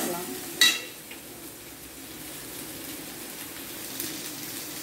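Onion, garlic and cardamom sautéing in a pan for a vegetable kurma, giving a steady soft sizzle with a brief clatter of stirring near the start, no voices.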